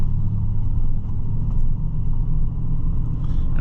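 Little F12 tractor engine pulling a trailer, a steady low rumbling drone that stays close and even throughout with no voices over it.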